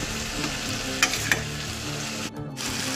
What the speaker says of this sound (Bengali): এবারে এই মশলা এই মাশরুমগুলো দিয়ে একটু কষিয়ে নেব।